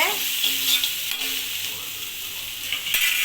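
Chopped bottle gourd curry is stirred in a hot pan, a close hissing sizzle with scraping spoon strokes over a few seconds.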